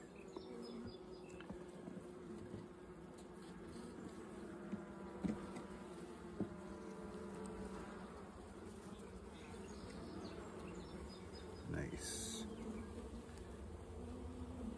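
Honeybees buzz around an opened hive during an inspection, a dense, steady drone with individual bees whizzing close past, quiet overall and with no talking.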